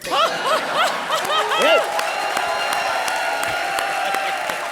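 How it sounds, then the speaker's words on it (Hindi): A studio audience at a comedy show claps and laughs, a dense bright patter of applause with chuckles, while voices rise and fall over the top at first. "क्या तालियां बजा रहे हो?"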